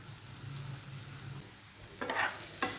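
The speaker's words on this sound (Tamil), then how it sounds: "இப்போ மூடி போடாமல் 3லேருந்து 4 நிமிஷம் இது ஃப்ரை ஆகட்டும்." Prawns fry uncovered over medium heat with a low steady sizzle, then two brief bursts of stirring clatter from a spoon against the pan near the end, close by.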